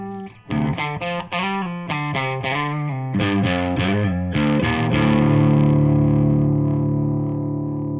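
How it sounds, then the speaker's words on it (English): Distorted electric guitar through a Blackstar Dept. 10 Boost pedal into an overdriven amp plays a run of choppy picked chords, then lets a saturated chord ring out and sustain with a gritty, crunchy amp tone. "We hear a very nice breakup, a very nice saturation of the amplifier."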